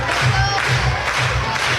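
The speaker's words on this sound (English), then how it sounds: "Crowd claps in unison." A softball crowd at a Florida State versus Oklahoma Super Regional game claps together in steady unison, a rhythmic pulse of hands that carries loudly through the stands with no voices over it.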